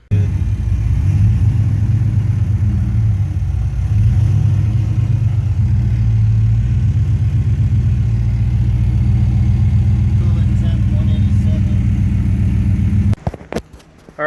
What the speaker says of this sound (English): we started the car. It was great. It was super pumped. It was idling